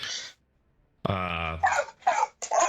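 A dog growls in a sustained low rumble, then lets out several sharp barks in quick succession, loud and close, with no talking.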